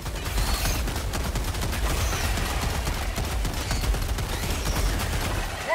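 Continuous rapid gunfire in Helldivers 2 against bugs, dense and loud with overlapping bursts and crackling impacts filling the whole stretch.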